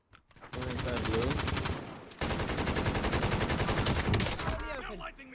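Rapid automatic gunfire from the Battlefield video game, two long dense bursts of close, loud shots separated by a brief gap, with a short voice fragment near the start.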